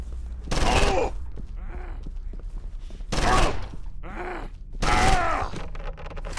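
Gunfire in the video game Condemned: Criminal Origins: three loud bursts of rapid shots, each about half a second long and spaced roughly two seconds apart, with groaning character sounds in between.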